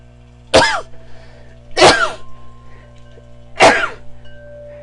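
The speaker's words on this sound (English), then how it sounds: "somebody's got perfume that's making me sneeze" Three sharp sneezes triggered by perfume, evenly spaced about a second and a half apart, each a loud, close burst against a quiet room background.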